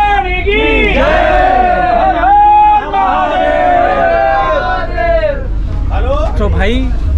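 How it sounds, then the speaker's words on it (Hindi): A dense crowd on a railway platform at a Vande Bharat Express station stop, loud and continuous, with many shouting voices and chanting over a low rumbling bed that may carry drumming. "काफ़ी भीड़ है भाई, आगे ढोल नगाड़े बज रहे हैं"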